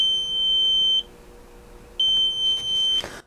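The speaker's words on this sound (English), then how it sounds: "as you can see, the buzzer is running" An electronic buzzer driven by an Arduino SunFounder kit sounds two steady, high-pitched beeps, each lasting about a second, with a second of quiet between them.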